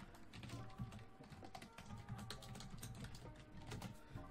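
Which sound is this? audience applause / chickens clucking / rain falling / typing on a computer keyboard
typing on a computer keyboard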